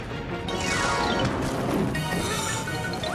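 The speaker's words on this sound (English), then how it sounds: "The ice is splitting the rock! Ah, the statue's breaking away from the mountain!" A rock statue cracks and breaks away from a mountain as ice splits the rock, heard as a dense, continuous crashing and grinding rumble that stays loud throughout, with no voices.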